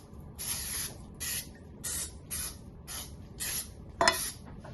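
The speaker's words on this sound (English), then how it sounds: "I'm just gonna put a little spray around the edges here" Cooking spray is spritzed around the edges of baking paper for gluten-free vegan whoopie pies, heard as a quick series of about six short, soft hissing puffs in a steady rhythm, close and fairly quiet, with a faint clink near the end.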